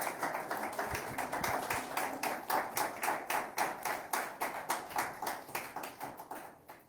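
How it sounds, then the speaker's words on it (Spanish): Applause sends off an ambassador at a panel on religious freedom in Nicaragua. The scattered clapping settles into a slow, synchronized rhythmic beat of sharp claps that gradually thins and fades toward the end. "Vamos a despedirlo con un aplauso por haber estado acá con nosotros."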